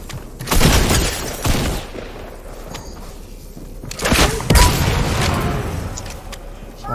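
Rockets firing and exploding in an online team shooter match, loud close booms and rumbling blasts in two clusters with continuous battle noise between them.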